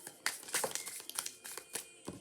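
Tarot cards being pulled from a deck, quick papery rustles and crinkling slides in a close, uneven series of short bursts, soft and near.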